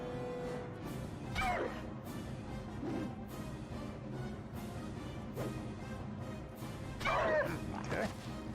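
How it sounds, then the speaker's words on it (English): A guard dog in the Neverwinter Nights game barks and yelps in a few separate bursts over a busy game soundscape, with louder whining barks near the start and end. "there's another guard dog in here"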